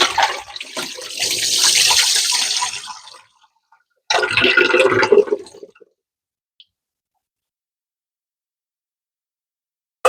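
Warm brine drains off Brussels sprouts being pickled, a close rushing pour of liquid in two bursts separated by a short pause, then near silence with a few faint drips.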